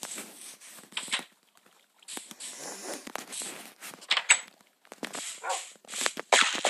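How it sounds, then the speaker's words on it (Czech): A dog barks in the game Minecraft, a series of short clipped barks in irregular bursts with brief silent gaps between them. "Ale lidi tu máme pejska, jak můžete vidět."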